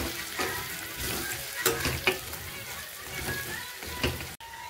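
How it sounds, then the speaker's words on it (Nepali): Cumin and coriander spice masala fries in a pan with a steady crackling sizzle, punctuated by a few louder scraping stirs close by, and no talk over it. "हामीले अब मसला भुट्न दिन्छौँ"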